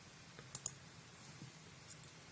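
Two quick computer mouse clicks close together, faint and close, during software work setting up a surface, with a couple of softer clicks later and a louder tap at the very end.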